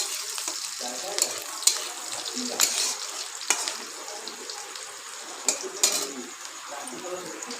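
Onions crackle and sizzle in hot oil at moderate volume, with occasional sharp pops and a few clinks, faint voices in the background.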